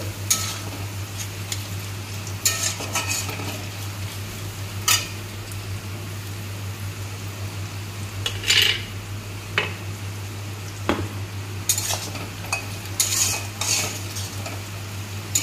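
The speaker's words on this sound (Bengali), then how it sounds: "রসুন আর কাঁচা লঙ্কাটা আগে দেবো।" Garlic and green chillies fry in oil in a pan while making chicken curry, a steady background sizzle punctuated by repeated metallic scrapes and clinks of a spoon stirring against the pan, with no one talking.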